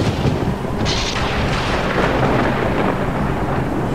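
Heavy unseasonal rain falls over paddy and potato fields in an animated cartoon story, in a dense, constant hiss, loud and close, with deep rumbling like thunder underneath throughout.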